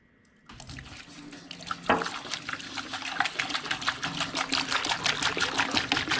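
A gallon of liquid is poured into the gas tank of a rusty Minneapolis-Moline tractor, a close, steady splashing and gurgling stream that begins abruptly after a brief quiet start and grows fuller as it continues.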